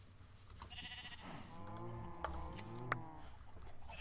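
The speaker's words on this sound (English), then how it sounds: "Let me go shear one of his sheep." Sheep in a Minecraft-style video game bleat several times, wavering cries over a low background hum, moderately loud with no speech.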